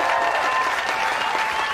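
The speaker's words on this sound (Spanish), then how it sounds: "Les pido un fuerte aplauso, por favor," Audience applause for the performers Elsa y Elmar, a steady dense wash of clapping from a crowd, loud and continuous throughout with no talk over it.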